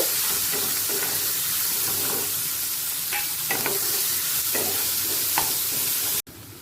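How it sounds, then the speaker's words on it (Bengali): A large chopped onion frying in oil for a Katla fish kalia, giving a steady close sizzle with occasional stirring clicks, constant and loud until a sudden cut near the end. "বড় সাইজের একটা পেঁয়াজকে কুচিয়ে নিয়েছি সেটাই দিয়ে দিলাম হালকা লাল হওয়া পর্যন্ত অপেক্ষা করব"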